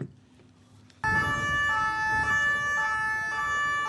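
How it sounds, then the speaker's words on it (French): Police sirens start abruptly after a quiet moment at a public ceremony, a loud sustained wailing tone that holds steady and close for several seconds. "rampe gyrophares LED et sirènes de ton de la police sont actionnées pour débuter cette cérémonie"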